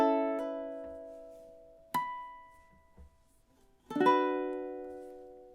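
Ukulele strumming a song, a few separate chords struck close and clear, each ringing and decaying, with a quiet gap before the last strong strum.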